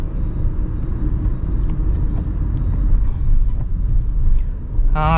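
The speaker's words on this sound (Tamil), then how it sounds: "ஸோ நல்லா ரெவ் பண்ணும்போது இன்ஜின் சவுண்ட் உள்ளே கேட்குது நமக்கு" A Tata Punch sub-compact SUV's engine revs as heard from inside the cabin, a steady, fairly loud low rumble that swells slightly toward the end, with road noise underneath.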